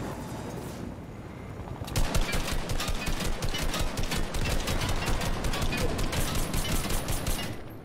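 Sustained automatic assault rifle fire in Fortnite Battle Royale, a long rapid burst of shots that starts after a short quiet moment and continues loud and steady, with faint voice underneath.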